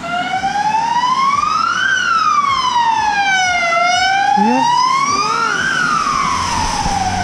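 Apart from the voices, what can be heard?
ambulance siren passing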